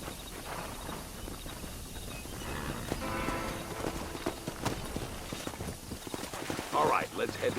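Horse hooves clip-clop in a steady rhythm over the Red Dead Redemption soundtrack, with occasional louder thumps near the end and no voice talking.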